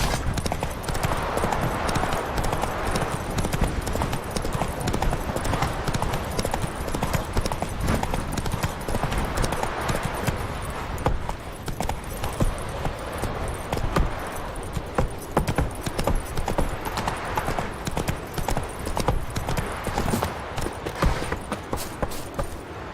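The horse Roach gallops in The Witcher 3, a steady rapid clip-clop of hooves that continues throughout, with faint voices now and then.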